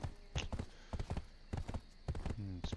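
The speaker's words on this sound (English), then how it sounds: "So just came back to get my horse." Horse hooves in the video game Black Desert Online clip-clop in an irregular run of soft footfalls, ending with a brief whinny-like call.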